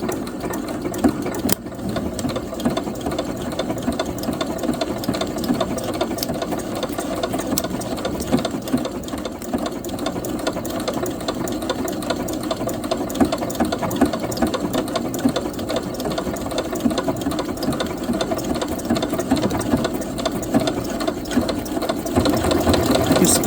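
A new sewing machine stitching a label, a continuous close mechanical whir with a fast rhythmic needle chatter that holds steady throughout, with no talking.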